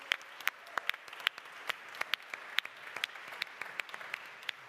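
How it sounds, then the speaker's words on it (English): A conference audience applauds with scattered, sparse handclaps, fairly faint and thin, steady for a few seconds with no talk over it. "Another round of applause."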